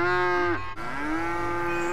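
A cow moos loudly and close by in one long, harmonic call that breaks off briefly and resumes, with no talk over it.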